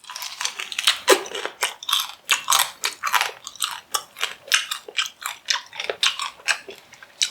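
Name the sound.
crunching crispy fried pork knuckle skin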